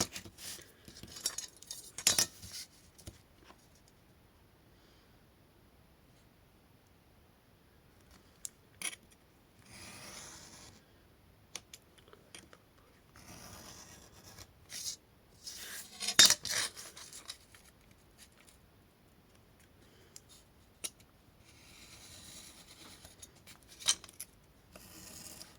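Scissors cutting paper for a handmade pop-up birthday card, heard as quiet, close, irregular snipping and rustling bursts separated by near-silent pauses.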